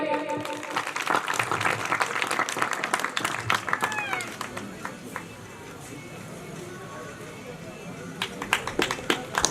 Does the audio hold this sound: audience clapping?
yes